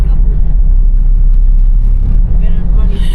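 A car being driven along a road, heard from close by as a loud, steady low engine and road rumble that continues throughout with no voices.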